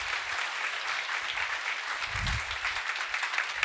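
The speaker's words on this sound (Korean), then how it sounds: "하나님께 감사와 영광의 박수 올려드리기를 원합니다." A church congregation at a Korean healing worship service applauds together, a steady dense patter of many hands clapping from start to finish, with faint murmuring underneath.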